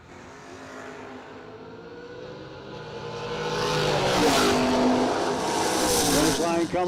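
A 1967 Camaro drag racing at a no-delay nationals event roars in close and builds to a loud, rising engine howl. The car passes amid crowd and announcer chatter.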